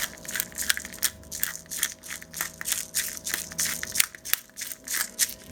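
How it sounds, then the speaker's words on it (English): Peppercorns cracked fresh onto a T-bone steak, close repeated crunchy grinding bursts in an uneven rhythm with faint crackle, no talking. "I like fresh cracked black on steaks, you know."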